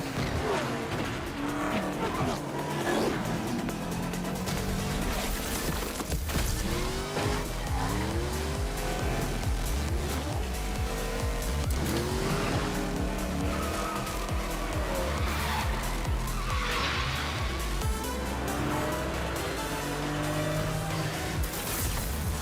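Race cars in a video game roar along continuously with repeated tire squeals and skidding, loud and dense throughout, without any speech over it.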